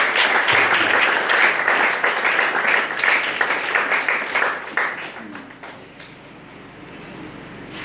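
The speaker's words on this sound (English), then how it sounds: "this serves a round of applause for that" Big audience applause at a student-alumni talk evening, loud and dense at first, then thinning and fading to a quiet murmur over the last few seconds.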